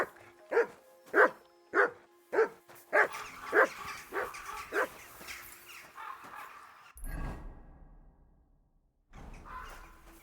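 Steady, rhythmic barking from a dog in the medieval video game Kingdom Come: Deliverance 2, about a dozen close barks that fade into softer whimpers, followed by a low rumble and quiet ambience.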